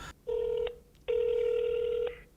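Ringback tone on an outgoing call to a real estate agency: two steady electronic tones, one short and one longer, separated by a brief pause, clear and close over faint background noise.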